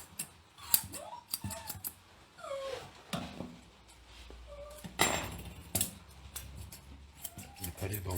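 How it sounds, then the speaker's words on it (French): Grooming scissors sculpting an American Cocker Spaniel's coat, with a string of quick, crisp metallic snips close by, scattered irregularly between quiet pauses and soft handling noises, a dog occasionally stirring. "Et là, vous allez venir sculpter avec les ciseaux."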